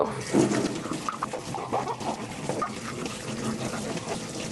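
Houseplants rinsed under a running tap during plant chores, with a steady close stream of water splashing and gurgling over them, loudest at the start, and no talking.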